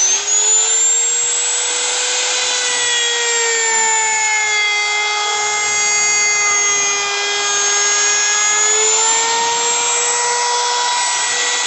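A GAOCHENG GC-T036 trim router spins a bit and cuts a deeper pass into wood, giving a loud, steady high-pitched whine with a slowly wavering pitch that runs continuously and alone.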